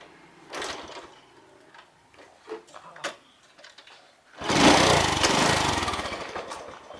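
A Honda Dream 125 motorcycle is started with a spare key: a few soft clicks and rattles of the key come first, then the engine catches and runs with a loud, steady idle.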